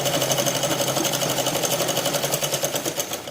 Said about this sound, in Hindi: फिर मैं यहाँ पे सिलाई लगा दूँगी